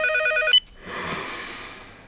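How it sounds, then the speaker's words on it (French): A telephone rings with a sharp electronic trill that cuts off abruptly after half a second, followed by a quieter hissy rustle of room noise. "Téléphone, Jess."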